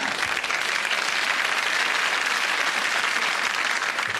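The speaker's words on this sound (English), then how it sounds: "Go on, clap if you want to." Studio audience applause in a television comedy show, a dense, even wash of many hands clapping that holds steady and loud throughout, with no voices over it.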